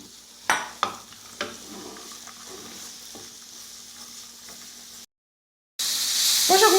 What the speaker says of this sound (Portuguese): vou deixar ele fritar um pouquinho na manteiga